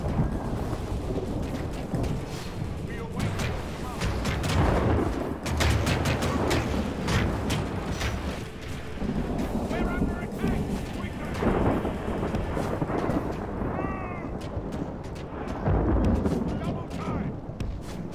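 Towers firing during a Divide and Conquer video game battle, heavy booming blasts rolling continuously like thunder, loud and dense throughout.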